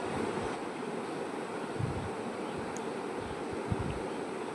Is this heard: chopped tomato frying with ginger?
yes